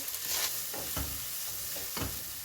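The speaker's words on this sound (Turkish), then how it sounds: "Burada da soğanlarımı soteleyeceğim biraz." Onions sautéing gently in a pan for maqluba, with periodic scraping stirs, a soft steady fry underneath.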